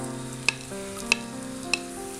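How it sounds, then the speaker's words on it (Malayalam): Crushed garlic and ginger frying in coconut oil in a pan, with a steady close sizzle and three sharp clicks of a spoon striking the pan as it is stirred. "ഇത് എണ്ണയിലൊന്ന് നന്നായിട്ടൊന്ന് മൂപ്പിച്ചെടുക്കണം"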